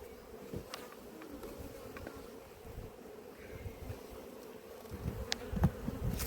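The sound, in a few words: bees buzzing at an apiary hive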